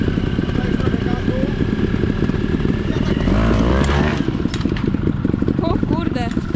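A GasGas motorcycle engine runs loud and close, its throttle blipped for a rising rev in the middle before settling back to a rattly idle, with a voice speaking over it.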